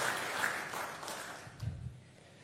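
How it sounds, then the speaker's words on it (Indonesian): Applause from an audience at a Yudhoyono Institute event for visiting ambassadors and heads of mission, a brief burst of crowd clapping that tapers off within a couple of seconds. "Tepuk tangan sekali lagi untuk para ambassadors"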